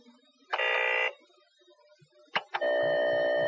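Two steady electronic data tones come from a computer loading a program from cassette tape. The first is a short burst and the second is a sustained tone after a pause, both loud and clear with no talk.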